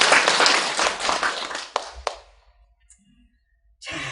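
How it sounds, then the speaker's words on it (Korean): An audience at a Buddhist dharma talk claps together for about two seconds, a dense burst of hand claps that fades into near silence before the room noise returns. "박수 좀 쳐."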